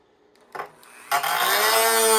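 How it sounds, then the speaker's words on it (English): Disc cutter slicing through a styrofoam glider part: a brief whir, then a sustained bright, gritty high-pitched grinding that starts abruptly and holds loud to the end. "Just line up with the disc cutter and come up through it."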